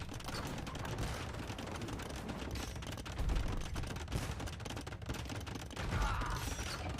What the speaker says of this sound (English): That is some good shots from the bombard cannons.